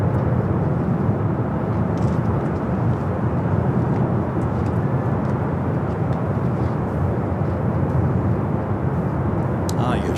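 A jet airliner roars steadily at LAX, a continuous broadband rumble filling the whole span at strong level as the plane comes in to land, with faint voices talking over it.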